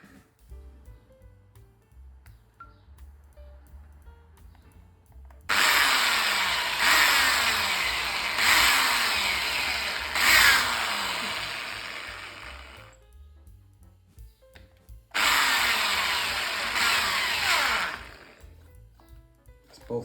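A power drill bores pilot holes into the stock of a handmade invert roller speargun, running in two loud, steady bursts of several seconds each over a quiet background.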